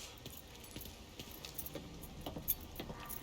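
Car keys jangling in the Mafia 3 Definitive Edition video game, a quiet series of light metallic jingles and clinks, close and without talk.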